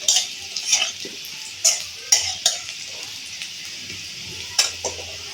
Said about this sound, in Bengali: এখানে আমি আলুটা ভাজছি।